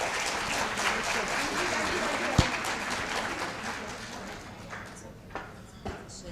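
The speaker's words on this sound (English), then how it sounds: "Let's give her another big round of applause." An audience applauds at an International Women's Day celebration event, a dense wash of many hands clapping for several seconds that tapers toward the end, with a few sharp individual claps standing out.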